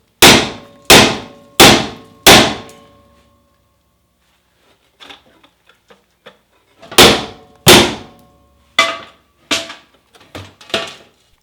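A hammer strikes bolts through a Jeep bumper in loud metallic clangs, first four quick blows, then a pause with faint tapping, then another burst of heavy strikes and lighter taps.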